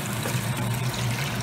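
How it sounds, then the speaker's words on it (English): Liquid is poured into a hot pan to deglaze it, giving a steady, dense rushing hiss of pouring and sizzling that holds at an even level, close up with no voices. "so now we're about to add the liquid"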